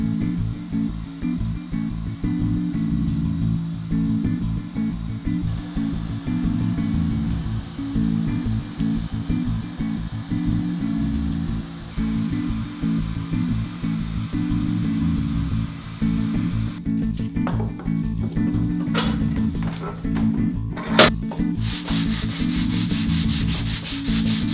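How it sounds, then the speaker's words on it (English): Wood router fitted with a 1/8 inch round-over bit shaping the edges of a wooden coat rack, a continuous loud whine and rasp that runs steadily throughout and then shifts tone near the end as the cut finishes. "I'm going to round over all the edges with an 1/8 inch radius round over bit"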